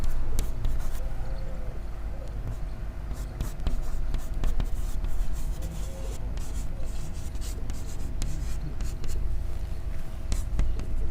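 A pen scratches and rubs steadily on paper while C code is noted down, a continuous close scribbling texture with occasional taps, with soft speech alongside.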